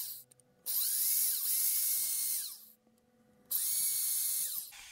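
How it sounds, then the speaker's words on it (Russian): A power drill spins up and whirs through two close bursts, each a couple of seconds long, with a quiet gap between them, boring holes during a toilet installation. "Делаем отверстие."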